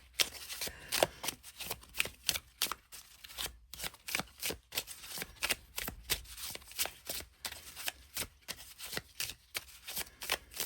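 Oracle cards shuffle close up in a steady run of soft papery riffles and slaps, rhythmic and continuous, with no voices.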